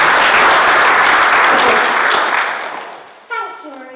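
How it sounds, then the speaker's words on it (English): An audience at a youth public-speaking district final breaks into loud, sustained applause that slowly fades, and then a voice begins speaking as it dies away. "Now, will you please join me in a round of applause for Grace Taylor?"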